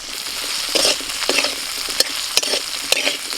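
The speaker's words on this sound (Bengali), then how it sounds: "আলুটাও ভাজা হয়ে গেছে" Potatoes fry in hot oil with a loud, continuous sizzle, punctuated by sharp scraping clicks as a spatula stirs them in the pan.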